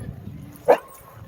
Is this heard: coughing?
no